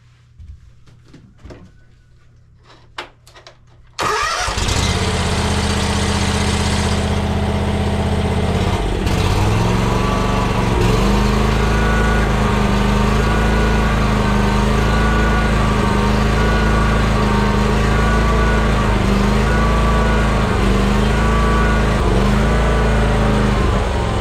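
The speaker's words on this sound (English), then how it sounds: "It runs the same as it does pulling out of the tractor fuel tank in the back." A John Deere X350 lawn tractor engine idles loud and close with gas fed directly to the carburetor, a steady droning hum with slight periodic dips suggesting mild surging, after a few seconds of quiet handling noises.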